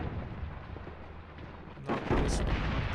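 An airstrike in the war strategy game Attack at Dawn: North Africa, heard as a burst of booming explosions after a quieter low rumble, loud and close in the final second.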